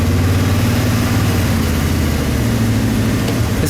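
A 1980 Jeep Grand Wagoneer with its 360 V8 idles steadily up close, a deep, even rumble with a slightly fast, cold-engine pace and no talk over it.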